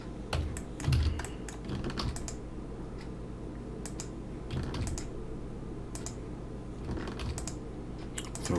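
A computer keyboard clatters steadily with short bursts of keystrokes and shortcut combos during 3D modelling in Blender, crisp and close, with no talking.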